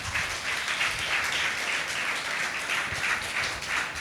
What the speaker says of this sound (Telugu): మీరు చప్పట్లు కొట్టి దేవుని నామాన్ని కనపరచండి